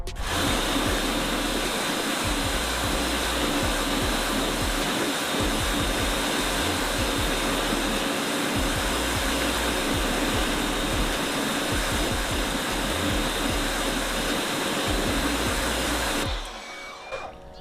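Water spraying onto a car wheel and tyre as it is rinsed: a steady, loud hissing rush lasting about sixteen seconds before it stops abruptly, with no voices.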